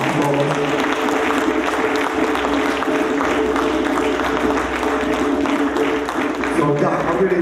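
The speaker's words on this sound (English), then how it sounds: "we should definitely give her and her partner a round of applause" An audience at a Kwanzaa celebration claps for a woman and her partner, dense steady applause with some voices mixed in.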